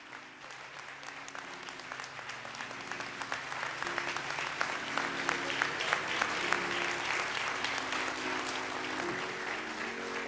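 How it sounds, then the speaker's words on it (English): Sustained applause from a large crowd at a public gathering, steady and dense for about ten seconds, with no talk over it. "Please give a great round of applause for the Reverend Al Sharpton."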